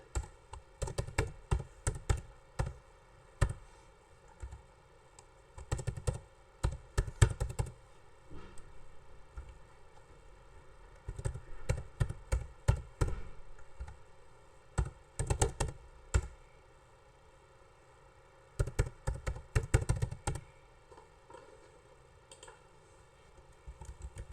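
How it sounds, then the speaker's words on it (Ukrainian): Text is typed on a computer keyboard in quick bursts of close, crisp key clicks separated by short pauses, with no voices. "наберемо необхідний текст"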